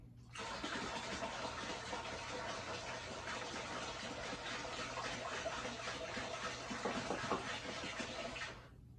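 Roughly half a gallon of water poured steadily into a container while blending moonshine, a continuous broadband rushing gush lasting several seconds before it stops abruptly.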